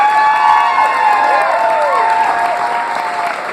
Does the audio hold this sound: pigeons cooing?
no